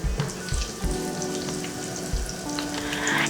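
Chopped onion and garlic frying in a pan, a loud, dense, close sizzle crackling continuously with a few soft stirring knocks, no speech.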